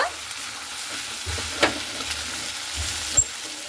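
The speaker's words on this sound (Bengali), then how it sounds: "মাংসটাকে আরো একটু 2-1 মিনিট খুব সুন্দর করে কিন্তু কষিয়ে নেব।" Chicken frying and being stirred in a pan over raised heat, a steady close sizzle with a few sharp scrapes and knocks of the spoon against the pan.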